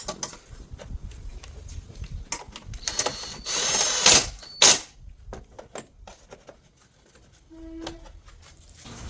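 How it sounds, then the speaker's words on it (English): A ratchet tightens a 10mm screw holding the computer back over a car starter, giving scattered mechanical clicks and clatter with a few louder bursts around the middle, close by and without talk. "Then reattach your 10mm screw."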